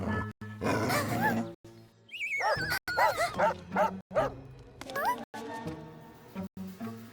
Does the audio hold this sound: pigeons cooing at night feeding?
no